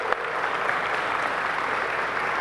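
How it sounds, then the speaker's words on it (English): A town hall audience with the mayor claps steadily and fairly loudly, a dense even wash of applause throughout. "Give her a big round of applause."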